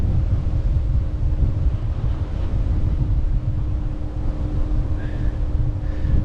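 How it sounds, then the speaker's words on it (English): Strong wind buffets the microphone on the Norfolk Broads, a loud, steady low roar with a faint tonal hum beneath it throughout. "it's really windy, so I don't know how well the sound comes out on here"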